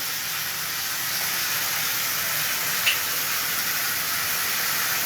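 Kofta curry masala fries in a pan, producing a steady, even, moderately loud sizzling hiss that carries on without pause, with one brief tiny tick in the middle.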